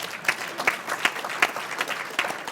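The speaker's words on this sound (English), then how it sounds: "Can we please applaud him for this?" Sustained audience applause fills a conference hall during a conservative panel discussion on urban issues, dense rapid clapping with a steady, moderately loud wash and no talking over it.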